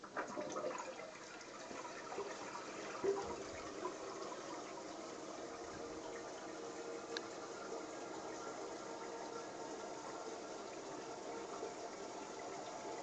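A toilet flushing in the USA, a steady rushing swirl of water filling the bowl, loudest at the start and continuing evenly close by for the whole stretch without talk.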